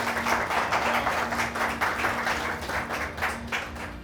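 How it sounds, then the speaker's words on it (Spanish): Church congregation claps after a baptism at an Easter Sunday service, a steady, loud patter of many hands that holds evenly throughout over a faint sustained hum. "Un fuerte aplauso."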